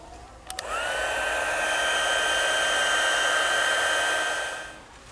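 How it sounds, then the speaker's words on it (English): A heat gun blows hot air over resin inside a craft bottle. A click starts a loud, steady whooshing roar that holds for about four seconds, then tapers off near the end. "I'm going to hit it with a little bit of the heat gun just to help thin the resin"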